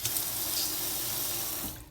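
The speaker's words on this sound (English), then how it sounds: "now after I turn on back on all the water, hot water and cold water" Water runs steadily from a household faucet being tested after a leak repair, a close, even hiss that holds for nearly two seconds before tapering slightly at the end, with no talking.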